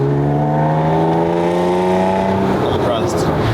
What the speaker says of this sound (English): It sounds like an old Porsche.